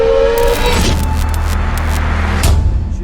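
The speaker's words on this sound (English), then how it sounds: "I'm in my truck, as you can no doubt tell." Engine and road noise heard from inside the cab of a truck on the road, a steady low drone with brief clicks and a faint tonal whine early on, no talk.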